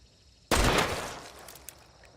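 One abrupt Hunt: Showdown headshot impact, like an egg cracking, a crisp, loud crack that decays over a second, alone without voices.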